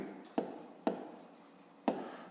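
A pen scratches across paper while a math exercise is worked out, with three distinct quick strokes standing out over soft, continuous writing in a quiet room.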